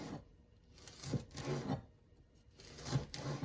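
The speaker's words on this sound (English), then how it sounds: "Turn them around and drag your knife through" A knife drags through rolled collard greens, cutting them into strips in a few separate soft rasping slices with short pauses between, faint and close.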